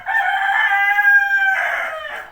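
A rooster crows once, loud and close, a single drawn-out call in a village yard in the morning, with no talking.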